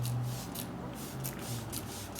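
SUMA ceramic spray coating hisses from a trigger sprayer onto a car's surface in a series of short, quiet bursts, several spaced spritzes heard close and soft over a low background hum.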